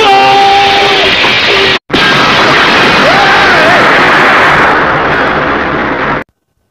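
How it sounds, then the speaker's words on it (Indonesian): A helicopter blowing up in a film action scene: a loud, sustained roar of blast and rumble, briefly cut off by a gap, then continuing with a tonal whine through it before ending abruptly. "membuat mesin helikopter error dan helikopter pun meledak"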